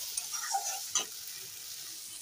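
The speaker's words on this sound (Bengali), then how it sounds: "কাশ্মীরি লঙ্কার গুঁড়োটা দিয়ে একটু ভালো করে নেড়ে দিই।" Kashmiri chili powder is stirred into a cauliflower masala in a pan, giving a faint soft sizzle with a couple of light spoon scrapes against the metal.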